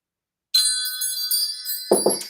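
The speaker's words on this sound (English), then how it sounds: "Let's call in spirit with a little bit of wind chime time." Wind chimes ring suddenly after a moment of silence, bright sustained metallic tones shimmering close and loud, with a few softer knocks near the end.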